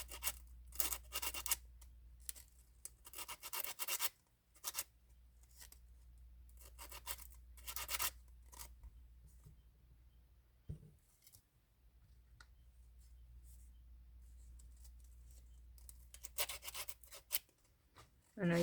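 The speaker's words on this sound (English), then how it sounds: "These I could sand down if I could hold on to them long enough to sand them." Air-dry clay pieces are sanded in repeated short scratchy bursts of rubbing, separated by quiet pauses, close and fairly soft.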